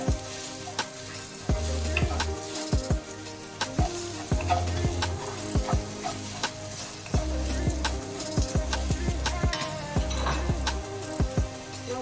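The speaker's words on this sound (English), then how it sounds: "just saute it until become brownish in color and aromatic" Garlic and meat filling for zongzi sautéing in a pan, a steady close sizzle and fry broken by repeated scraping stirs and clinks of a utensil against the pan, with a low rhythmic thumping tone underneath.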